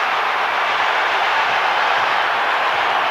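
Crowd roaring inside a packed arena at a 1998 NBA game between the Chicago Bulls and the San Antonio Spurs, a loud, steady broadband roar that holds without a break, with no distinct voices.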